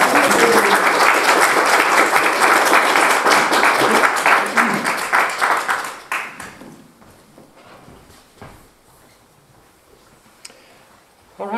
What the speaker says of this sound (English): let's give Scott Austin a big round of applause